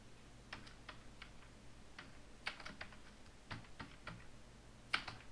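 Soft keystrokes on a computer keyboard tap out in scattered clusters with brief gaps, close and faint, and nobody talks.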